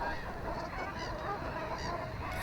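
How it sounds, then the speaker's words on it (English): Geese honk repeatedly at a distance, several calls overlapping against a steady background of outdoor noise. "The geese spend their winters in small family groups of up to 20 individuals"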